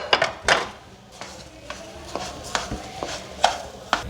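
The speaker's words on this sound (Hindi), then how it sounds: "ये देखें मैंने इसमें चीनी डाल दी, इसको मिक्स कर दिया अच्छी तरीके से" Sugar being stirred into chana dal halwa in a pan, a run of scraping and knocking strokes at irregular intervals, close and moderately loud, with no talking.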